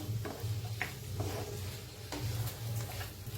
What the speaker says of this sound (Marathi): तर आता छान असं मिक्स करूया. हाताने मिक्स केले तरी बी चालतेत बटाटो.